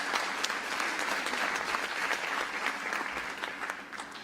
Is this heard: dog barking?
no